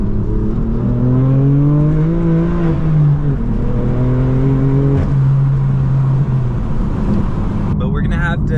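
A manual BMW M4 F82 revs hard with the wheels struggling for traction, its engine note sweeping up and down in loud, sustained surges close by, ending with a sharp burst of wind or roar.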